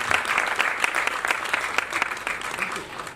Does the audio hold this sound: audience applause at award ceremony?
yes